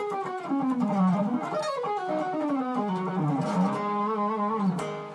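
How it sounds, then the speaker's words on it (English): Full-speed rock fusion lick on distorted electric guitar, a rapid stream of bent and sliding notes with heavy sustain, played solo and cutting off at the close. "the excruciating lick sounds like this."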